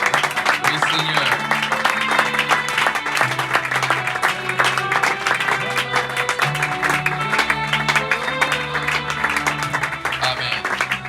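A church congregation applauds in acclaim during a French-language worship service, with sustained dense clapping and crowd noise under a steady musical backing, voices mixed in.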